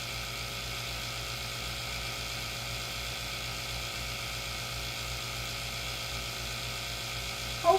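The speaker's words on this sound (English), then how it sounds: "It's a vacuum chamber." A vacuum chamber pump runs steadily while degassing resin for a flower jar, a constant close whirring hum with a brief louder bump at the very end.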